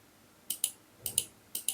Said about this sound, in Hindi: तो इस पर क्लिक कर देना है।